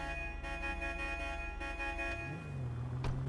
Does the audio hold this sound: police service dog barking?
no